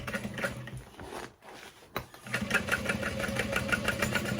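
A sewing machine stitches vinyl handbag panels, its motor running in a steady rapid rhythm that pauses briefly and then resumes at close range.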